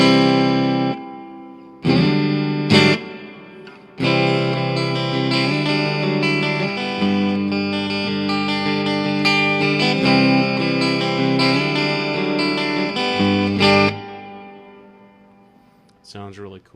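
An electric guitar riff played through an Orange Crush Pro CR120 amp with hall reverb rings out in sustained chords and notes, broken by brief pauses, with long reverberant tails trailing into the final decay.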